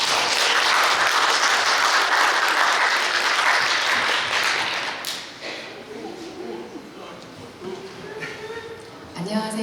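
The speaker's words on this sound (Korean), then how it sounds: "여러분 큰 박수로 환영해주세요." A hall audience at a speech contest for people with visual and hearing impairments breaks into loud, dense applause that holds strong for about five seconds, then thins into scattered claps and room murmur.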